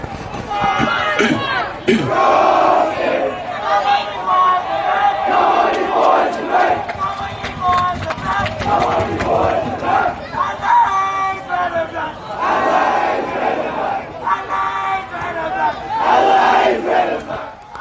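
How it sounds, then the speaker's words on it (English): A large crowd of Rostrevor supporters roars and chants at a school soccer grand final against CBC, a loud, sustained wall of cheering that swells and dips in waves over the whole stretch. "You can hear the crowd, Rostrevor just getting behind their team."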